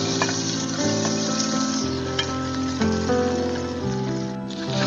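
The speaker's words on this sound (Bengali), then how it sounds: "এগুলিকে আমি ভালোভাবে নেড়ে চেড়ে ভাজিয়ে নেব।" Chopped onion and garlic sizzle and crackle in hot oil in a wok, a steady close frying hiss with faint stirring scrapes.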